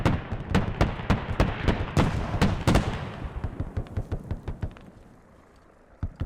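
Rapid heavy gunfire in the video game Squad aimed at an LAV-25 armored vehicle, a quick series of sharp booming shots that thins out and fades, with a final close blast near the end.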